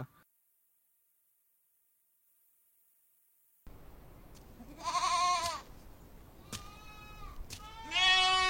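A young goat kid bleats outdoors in several loud, wavering cries after a silent opening, the later calls close and strong.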